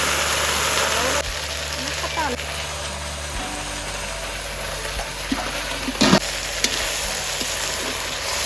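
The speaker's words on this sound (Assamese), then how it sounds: "এইফালে কচুবোলখিনি এতিয়া বহাই দিলোঁ এনেকৈ কেৰাহীত।" Taro flowers fry in a wok in a village kitchen with a constant hissing sizzle over a low mechanical hum, and a few louder stirring scrapes appear midway.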